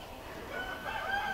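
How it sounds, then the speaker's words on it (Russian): Backyard chickens at a house cluck faintly while a rooster's crow rises in the background, distant and soft over outdoor ambience. "Уточки пищат, курочки кукокают, петушки кукарекают"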